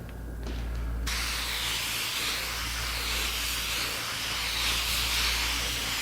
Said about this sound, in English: Again, it's dye. I'm spraying.